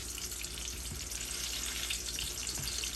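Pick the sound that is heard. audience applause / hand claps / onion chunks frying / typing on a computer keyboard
onion chunks frying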